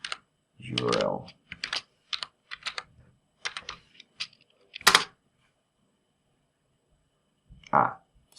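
Computer keyboard typing while writing code, heard as bursts of key clicks in uneven clusters, fairly close and moderately loud, with a few louder clacks and pauses between runs.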